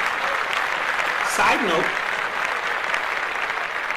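A school-event audience applauds in a steady, moderately loud wash of clapping, with a voice talking over it.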